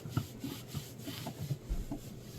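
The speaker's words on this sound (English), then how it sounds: "I will finish polishing it off like this." Cloth rubbing back and forth across a metal wrestling belt plate in steady polishing strokes, soft rhythmic scrubbing close up with no talking.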